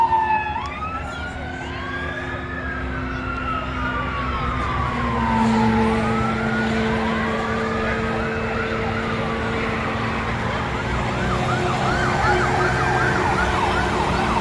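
Ambulance and fire engine sirens wail and yelp together in a 9/11 tribute procession on Interstate 94 in Afton, Minnesota, several overlapping sirens sweeping up and down continuously over rumbling traffic.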